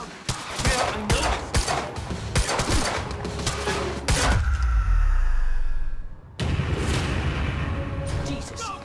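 Gunfire in the video game Quantum Break rattles in rapid bursts of sharp shots, followed by heavy booming impacts and a rumbling crash, loud and close, with shouting voices in between.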